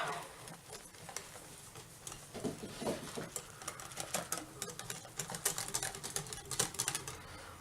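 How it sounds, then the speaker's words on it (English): A whisk rattles quickly against a bowl while mixing dry flour for bread dough, giving a faint, busy clatter of rapid ticking strokes that grows a little louder and more uneven toward the end. "Whisk that up."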